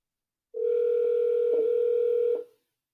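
A steady telephone dial tone sounds alone for about two seconds, loud and close, then stops abruptly.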